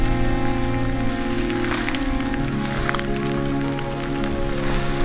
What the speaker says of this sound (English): it's raining pretty good right now. Not super, super hard, but it's raining pretty good